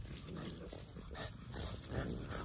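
A lively dog growls and whimpers softly in a short, faint burst of uneven grumbling and whiny sounds close to the listener.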